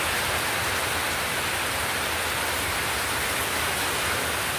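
Heavy rain and wind sweep over rough sea waves during a typhoon, a dense, unbroken hiss of downpour and gusts that stays loud and even throughout, with no talking.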